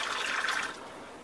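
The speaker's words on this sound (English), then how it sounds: "I'm going to get my hand rinsed off first before I grab a hold of the hot pad" Tap water runs into a kitchen sink as greasy hands are rinsed, a brief close hiss and splash that eases off toward the end.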